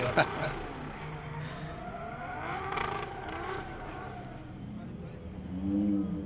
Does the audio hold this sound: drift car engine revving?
yes